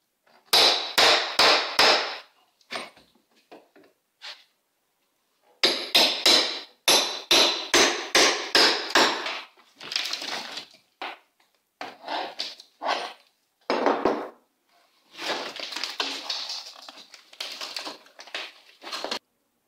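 Hammer blows knock out drywall around a kitchen vent stack during demolition. The close, sharp strikes come in fast rhythmic runs with a few short pauses, joined by crunching and cracking board and no talking.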